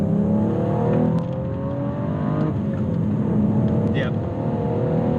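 Modified BMW F20 M135i with Bluespark and DS2500 upgrades accelerates at full throttle, its engine droning loud and steady with a rising pitch, heard from inside the car while people talk over it.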